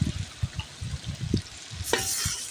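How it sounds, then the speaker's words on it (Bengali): Boiled beef tipped into a pan of spice mixture being fried down for a village-style mankochu (taro) curry: a spoon scrapes and stirs in uneven strokes, then a brief louder sizzle flares as the meat lands in the hot pan. "এখন আমি সিদ্ধ করা মাংসটা এর ভেতরে দিয়ে দেবো, ঢেলে দিচ্ছি"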